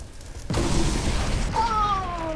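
Barrels blowing up in the Viscera Cleanup Detail video game: a sudden loud burst of noise cuts in and sustains as a dense rumbling blast, with a ringing tonal whine rising over the tail.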